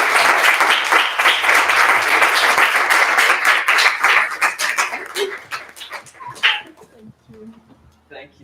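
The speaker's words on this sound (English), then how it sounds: "let's make a massive round of applause for our artists." Loud, dense clapping from an audience at an end-of-project community event, applauding the artists, sustained for several seconds before thinning out into scattered claps and fading.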